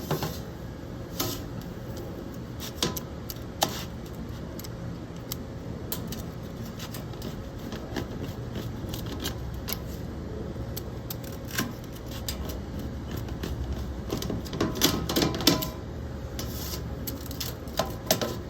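A knife or pizza cutter slices through a crispy Kirkland frozen pepperoni pizza cooked on a Recteq RT2500 BFG grill. It makes a long run of close, dry crunching and scraping clicks, with a denser burst of crackling near the end.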